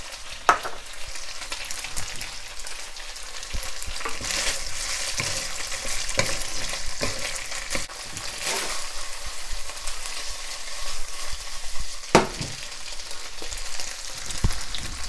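Onion and beef frying in a pan for beef and broccoli, a steady close sizzle and hiss with scattered scraping and stirring clicks throughout, no talking.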